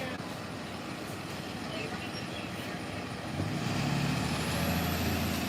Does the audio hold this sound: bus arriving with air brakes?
yes